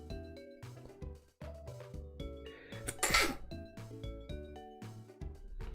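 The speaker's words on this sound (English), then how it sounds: "I'm gonna sneeze." A streamer lets out a single sharp, loud sneeze up close, a sudden burst over quiet background music from a Pokémon HeartGold game.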